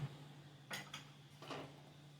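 Ground peanuts are tipped into thickened jaggery syrup and stirred, giving a few faint scrapes and metallic clinks of a utensil against a pan, close and quiet over a low steady hum.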